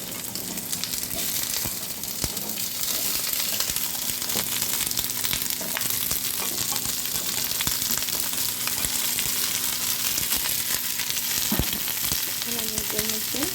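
Cauliflower and potato pieces fry steadily in oil in a pan, a dense, loud, continuous crackling sizzle with occasional faint stirring clicks and no voices.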